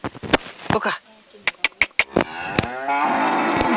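Cattle mooing in a few drawn-out calls, with sharp knocks and clatter between them, fairly close, and a long low moo at the end.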